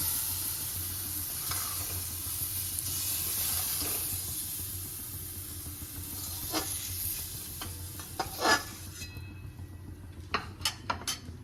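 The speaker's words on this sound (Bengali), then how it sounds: "দেখো মাশরুমটা ভালো করে ভাজা হয়ে গেছে" Mushrooms frying in oil in a pan for a matar mushroom dish, a steady close sizzle with occasional clinks and scraping of a utensil toward the end.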